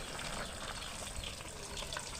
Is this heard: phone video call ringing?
no